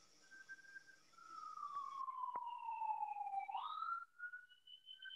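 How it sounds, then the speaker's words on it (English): A faint siren wails in the distance, one long tone sliding slowly downward and then jumping up again, heard alone at low level without talk. "As a siren goes in the background."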